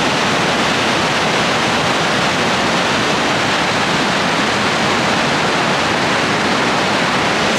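The Rhine Falls in Switzerland, Europe's largest waterfall, roars as a dense, constant wall of loud rushing water, unbroken for the whole stretch with no voices.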